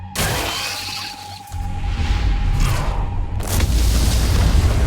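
Deep booming explosions like fireworks go off inside ant tunnels in the Solo Leveling: ARISE video game, a loud continuous rumble with shattering crashes and a sharp burst near the end.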